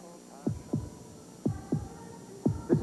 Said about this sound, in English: Listen to the heartbeat of America.